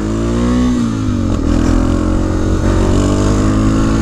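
A BMW GS650 motorcycle pulls hard in second gear, its engine note climbing and holding close and loud in one continuous accelerating run with no voices over it.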